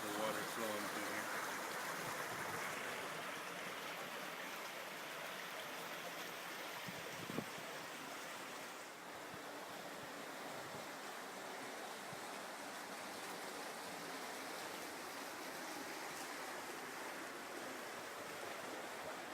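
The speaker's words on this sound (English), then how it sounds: "You can see the water flowing through here." Water rushing through a stream, a steady broadband flow heard close and fairly loud throughout, with a brief thump partway through.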